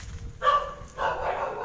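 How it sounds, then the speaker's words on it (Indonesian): A dog barks twice nearby from bushes, a short bark followed by a longer, drawn-out one, over faint background noise. "anjing yang menggonggong"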